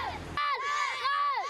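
Children of an elementary school baseball team on an island in Taiwan shout together in a loud, close burst of high, overlapping voices that rise and fall in repeated calls.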